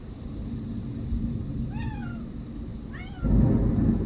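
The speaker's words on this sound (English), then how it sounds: "Was that a cat making those noises?" A cat lets out two short, rising meows during an Oklahoma thunderstorm, over a steady hiss of rain, followed by a deep rumble of thunder.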